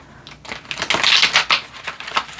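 Tarot cards being shuffled by hand, a quick series of soft papery riffles and slaps in uneven bursts, close and fairly loud with no talking.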